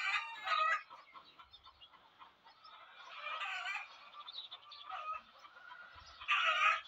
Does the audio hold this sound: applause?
no